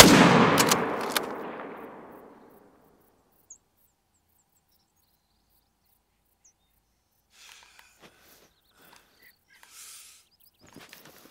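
A single loud rifle shot rings out while hunting in The Hunter: Call of the Wild, its boom decaying over about two seconds into near silence, followed by faint insect chirps and small scattered sounds in the distance.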